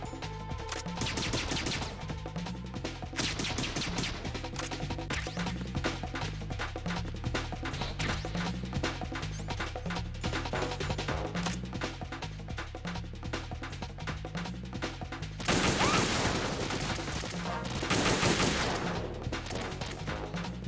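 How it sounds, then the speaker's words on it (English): Rapid, dense gunfire from Metal Gear Solid 2 rattles on nearly nonstop as a loud, close volley, swelling into a heavier burst near the end. "Someone shooting at her?"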